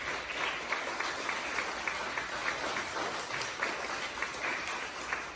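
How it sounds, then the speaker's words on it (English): Schoolchildren give themselves a round of applause, a steady, even wash of many small hands clapping, moderately distant and fairly quiet. "Give yourselves a round of applause"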